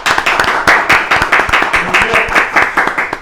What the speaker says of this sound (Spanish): a quien recibimos con un fortísimo aplauso, Sergio Sapena.